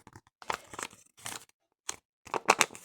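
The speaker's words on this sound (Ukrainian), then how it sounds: "Відкриваємо наш гарненький пакетик." Crinkly plastic rustling and tearing in several short bursts with pauses between, close to the microphone, ending in a louder crackling rip.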